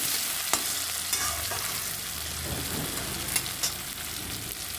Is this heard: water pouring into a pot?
no